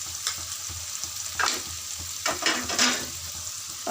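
Spices with green chili paste and ginger paste fry in a pan, giving a steady close sizzle broken by several louder stirring scrapes of the spoon, without any talking.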